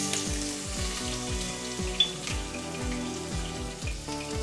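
Curry leaves and crushed garlic fry in hot oil for holige saaru, a steady close sizzle with crackling pops over a repeating rhythmic background pattern.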